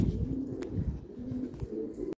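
A captive pigeon or dove fitted with a challenge ring coos in a steady, throaty series of low murmuring calls, close and fairly loud, with no talking.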